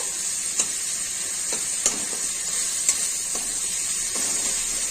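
Potatoes and pointed gourd fry in a pan with a constant bright sizzle and a few soft clicks from stirring, close and steady throughout, no voices.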